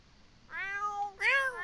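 Two clear cat meows in close succession in The Sims 4, the second louder and higher, with a faint low hum underneath.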